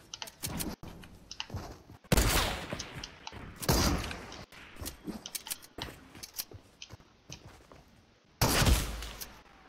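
Sharp bursts of gunfire in the Fortnite video game, several loud broadband cracks separated by pauses, with quieter clicks and taps scattered between them.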